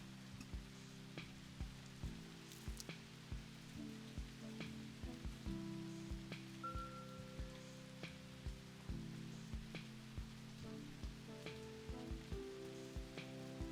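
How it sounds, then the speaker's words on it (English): Soft steady rain patters in a video game, drops ticking in an even uneven stream under quiet layered background music, with no talking. "Just now noticing it's raining"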